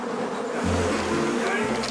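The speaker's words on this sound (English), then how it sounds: "The bees are clearly agitated by all the shaking and relocating." A dense, agitated buzzing of many bees fills the air, steady and close, with a low hum rising and falling underneath.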